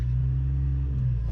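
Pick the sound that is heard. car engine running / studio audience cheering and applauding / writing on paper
car engine running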